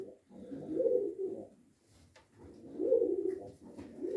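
Soft, low cooing from a male breeding pigeon in two drawn-out phrases, fairly close, with quiet pauses between.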